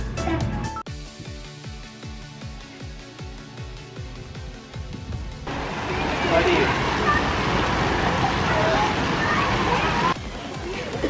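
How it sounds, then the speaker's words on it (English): Water splashes and sloshes steadily at an outdoor resort swimming pool, a broad continuous wash of splashing that swells midway, with voices talking over it. "we made it here to the Towers pool at the Wigwam"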